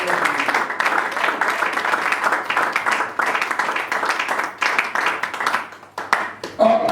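A congregation claps in church during a sermon, with dense, sustained applause that stays loud and close for several seconds. Scattered voices mix in beneath it.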